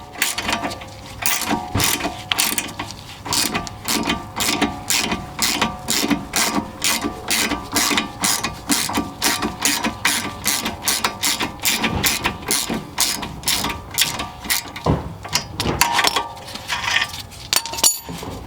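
Ratchet wrench loosening rear shock bolts on a 2011-2019 Ford Explorer, a loud, close, steady run of rhythmic ratcheting clicks and clinks lasting many strokes, with no talking.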